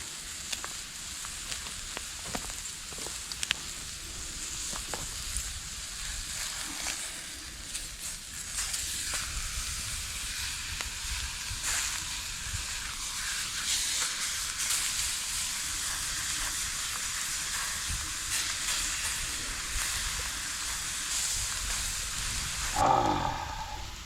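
Thick steak sizzles steadily in a cast iron pan over an open fire, a continuous crackling hiss with a brief clatter near the end.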